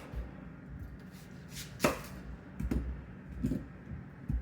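A knife chops onions in half on a cutting board, giving a few distinct, sharp thuds spaced irregularly over several seconds, close and fairly quiet, with no talking.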